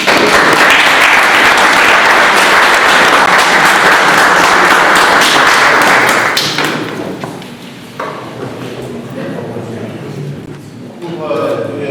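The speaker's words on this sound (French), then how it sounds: "On peut l'applaudir." Audience at a political party gathering in Germany applauding loudly for about six seconds, then the clapping drops away into scattered claps and murmured room noise.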